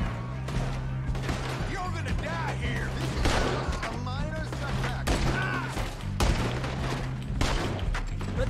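Gunfire erupts in the video game Red Dead Redemption 2 as a dense, sustained battle of sharp repeated shots and crashes, near and loud, while voices shout and talk throughout.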